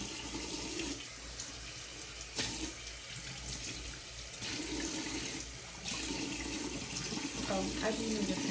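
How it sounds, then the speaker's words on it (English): Cold water runs from a bathroom tap into a sink while someone rinses their face, a steady splashing flow broken by several short shifts as hands cup and splash the water, close and fairly quiet. "I'm gonna rinse it off my face with cold water."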